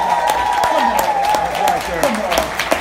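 Applause from an audience in Chicago, a dense wash of clapping with some crowd noise, loud and steady across the moment.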